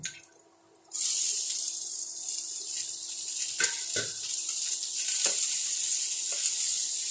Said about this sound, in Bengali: ক্যাপসিকামগুলো আগে একটু ভেজে নেব নরম হলে তখন আমি পেঁয়াজটা দেবো